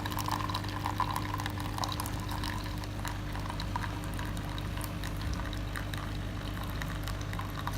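A One Touch Barista coffee machine runs its cleaning cycle, with steady bubbling, hissing water flow and a low mechanical hum throughout, close and continuous.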